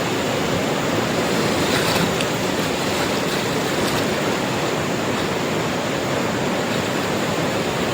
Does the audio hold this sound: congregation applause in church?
no